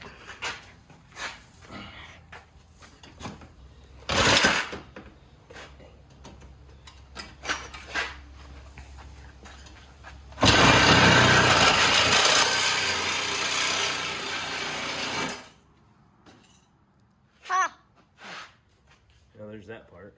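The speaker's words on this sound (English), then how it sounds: "now I'm going to try the Sawzall." A Sawzall reciprocating saw cuts through metal while a bumper is fitted to a 2021 Can-Am Renegade 1000 XXC. A loud burst of sawing lasts about five seconds among scattered knocks and handling noises, with a person speaking nearby.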